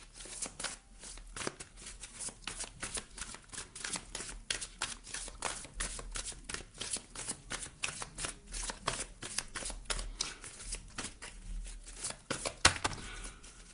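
A deck of oracle cards shuffled by hand at close range, a long, quick, even riffle of soft slaps and flicks running throughout, no voices.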